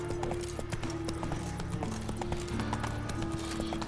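Roach the horse gallops in The Witcher 3, with rapid, rhythmic hoof clip-clops thudding continuously throughout over a low ambient game backdrop.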